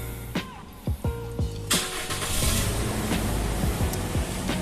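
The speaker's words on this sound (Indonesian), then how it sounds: "suara kijang Innova ya, suaranya ngembas, merdu ya" A black 2019 Toyota Kijang Innova Reborn G with automatic transmission starts up nearby: a few short clicks and cranks, then the engine catches and settles into a steady, even idle.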